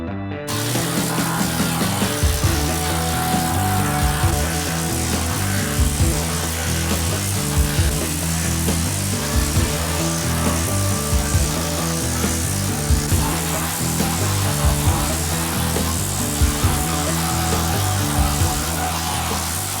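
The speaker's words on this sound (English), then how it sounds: "we're gonna jump onto the planishing hammer here, and I'm gonna start building this hip up" Planishing hammer forming a hand-built metal body panel for a vintage supercar, a loud continuous rapid hammering buzz with steady mechanical rhythm and brief pulses as the panel is moved.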